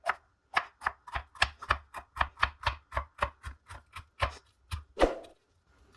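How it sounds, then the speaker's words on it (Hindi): A knife finely chopping green and red bell peppers and green chilies on a board, a steady run of close, rhythmic taps that slow slightly near the end, with no talking. "अभी इनको भी हम ऐसे ही बारीक काट लेंगे।"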